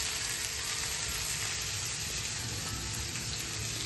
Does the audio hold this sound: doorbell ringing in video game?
no